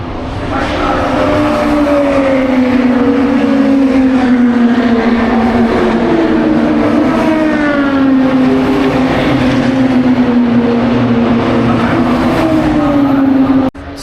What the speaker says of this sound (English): I hear some racing going on